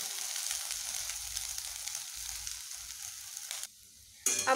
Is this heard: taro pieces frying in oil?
yes